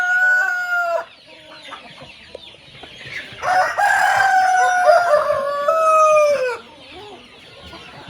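Roosters crow loudly and at close range on a farm with chickens. There are two long, drawn-out calls, and quieter clucking and rustling fill the gaps between them.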